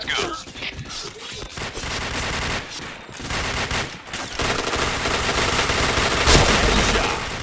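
Dense, continuous video game shooter gunfire, with rapid overlapping shots and booms that keep up nearly without pause at loud volume.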